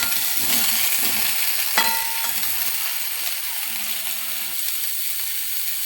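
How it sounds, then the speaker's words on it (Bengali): Sweet mango pickle mixture is stirred in a pan with a steady, soft sizzling hiss, a few light scrapes and clicks standing out near the start. "নেড়ে নেব।"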